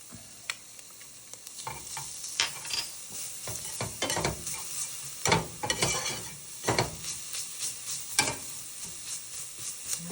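Garlic cloves and cooked-down onions sizzle steadily in a pan over low heat for a Zuppa Toscana casserole, with a soft constant frying hiss broken by clear scrapes and clacks of stirring, close and alone.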